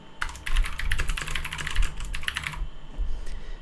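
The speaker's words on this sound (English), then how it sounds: "Now I'll turn it off and I'll type that sentence again." Fast keyboard typing, a dense run of clicking keystrokes close by for a couple of seconds, then a few scattered taps.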